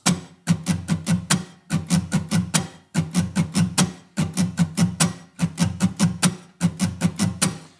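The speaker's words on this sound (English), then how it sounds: "the strumming pattern is going to sound like this." An acoustic guitar strummed in a steady repeating pattern counted in six, bright chord strokes grouped in quick bursts with short pauses between, close and clear.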